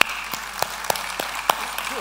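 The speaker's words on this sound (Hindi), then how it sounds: "जोरदार ताली।" At a tribute event honouring a classical singer, there is a sparse round of claps, sharp and evenly spaced about every third of a second, over a low murmuring background.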